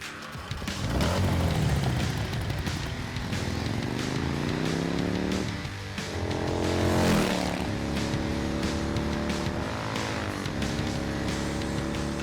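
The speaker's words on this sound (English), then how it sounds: "we're here as representatives of Arch Motorcycle, and we're doing some audio recording for Cyberpunk 2077" An Arch motorcycle engine is recorded up close for Cyberpunk 2077, revving loudly in repeated rising and falling sweeps with a rough, throaty drone throughout and no talk.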